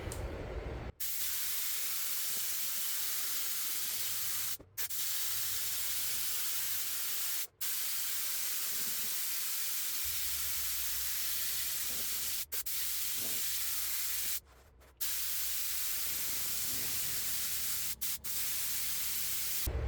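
Spray adhesive hisses in long, steady bursts onto a car headliner during upholstery repair. Brief pauses break the spraying, and a low hum runs underneath in the second half.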